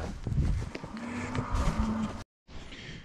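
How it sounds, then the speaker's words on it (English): A cow and her calf moo outdoors on a farm where calves are having ear tags put in, a low sustained call rising over rustling background noise before a brief gap. "we booted Haley's calf and cow out because it's actually nicer"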